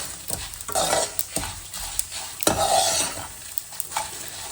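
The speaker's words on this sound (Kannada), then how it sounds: "ಕೇಳಿಸ್ತಿದೆ ಚಟಪಟ ಚಟಪಟ ಸೌಂಡು." Temple-style Melukote puliyogare tempering spluttering in a hot pan: sharp crackling pops and sputters burst irregularly over a steady sizzle, close and fairly loud, with occasional stirring scrapes.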